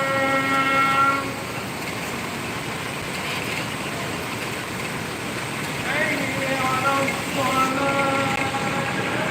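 A passenger train rolls into a station platform, its horn sounding a sustained blast at the start and again later over a continuous rumble of moving wagons.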